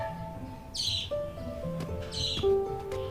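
Small birds give a few bright, close chirps over quiet background tones, with no talk.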